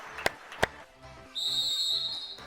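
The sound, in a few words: referee's whistle starting futsal match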